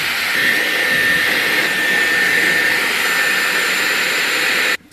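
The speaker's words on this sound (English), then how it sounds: "get the hair dryer all over and get off some of the wet" A hair dryer blows steadily on wet hair at home, a loud, close, continuous whoosh with a faint whine that cuts off abruptly at the end.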